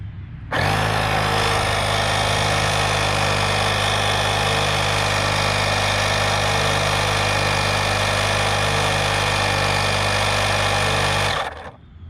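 A portable digital air compressor tire inflator runs steadily for about eleven seconds, a loud, close mechanical buzz with a strong low hum that starts abruptly and cuts off just as suddenly.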